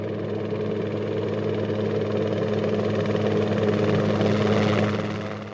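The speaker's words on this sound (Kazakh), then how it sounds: "Осы бейнероликте бізге болысқан тік ұшақ." A helicopter's rotor and engine make a loud, steady whirring drone that swells slightly before easing off at the end, with no voices.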